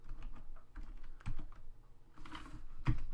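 Keys clatter on a computer keyboard in soft, close taps that come in uneven bursts and short pauses, with no talking over them.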